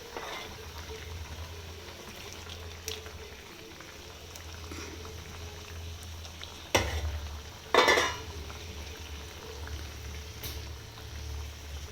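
Ennai kathirikkai kuzhambu, an oily brinjal and tamarind gravy, simmers in a pan with a steady low bubbling, broken by a couple of brief clinks and stirs partway through.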